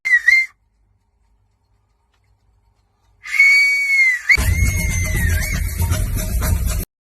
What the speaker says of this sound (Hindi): एनिमल मूवी का जो बीजीएम था उसमें जो सीटियाँ बज रही थी वो तक संदीप रेड्डी वांगा ने बजाई थी